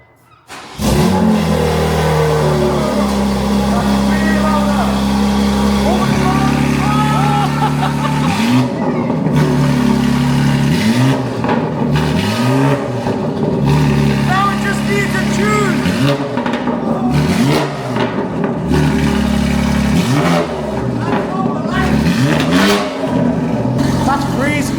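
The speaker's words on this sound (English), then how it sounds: "Right, he's going to start the car now. So we're going to hear the very first start." An Audi RS3 with a straight-through exhaust fires up for the first time, then revs hard in repeated rising and falling bursts, loud and close, with voices talking over it.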